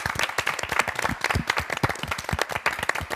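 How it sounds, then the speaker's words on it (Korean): A live television revival studio audience of pastors and lay members claps vigorously, a dense run of sharp, close hand claps continuing steadily throughout. "우리 서로 응원하는 의미에서 박수 한번 더 치고 시작할까요?"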